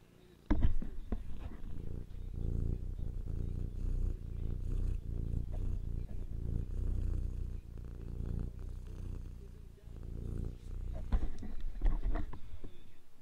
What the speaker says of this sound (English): You hear him purring.